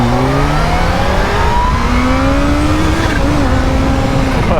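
A Kawasaki Z H2 motorcycle launches hard from a standstill using the clutch alone, its engine loud and close as the pitch climbs steadily through the rev range.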